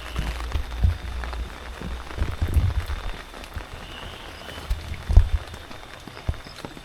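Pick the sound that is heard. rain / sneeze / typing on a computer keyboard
rain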